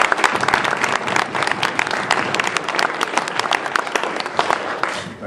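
Guests at a wedding reception break into steady, dense applause that fills the room throughout, with many hands clapping at once and no break.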